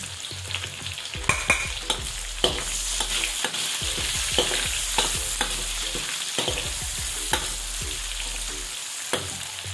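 Garlic and onion stir-fried in hot oil for a New Year's Eve recipe, a steady loud sizzle broken by repeated sharp scraping and clacking strokes of the utensil against the pan, with no talking.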